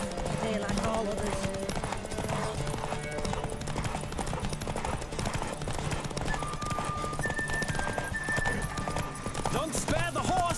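Clip-clop of a horse galloping steadily in The Witcher 3, hooves pounding without pause under loud game music, with occasional whinnies and voices talking over the ride.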